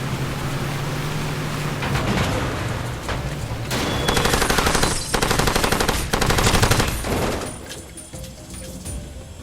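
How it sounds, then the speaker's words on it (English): A vehicle-mounted machine gun in Far Cry 2 rips off loud, sustained bursts of rapid automatic fire, broken by brief pauses, with engine rumble underneath. "I have a gun on top of my vehicle"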